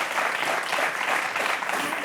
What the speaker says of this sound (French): Vous pouvez applaudir, c'est bien.